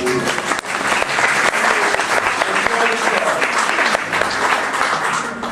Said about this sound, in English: Please help us by applauding when the sign is lit.